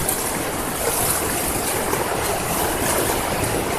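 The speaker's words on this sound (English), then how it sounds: "this is a spillway, so it's really designed to spill over" Water pours over a spillway in a steady, loud, close rushing roar that holds constant throughout with no letup.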